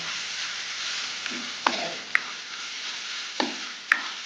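Cassava pieces fry in hot oil for a tempered curry with a steady broadband sizzle, broken by several sharp clinks and scrapes of a utensil stirring the pan, close by and with no talk.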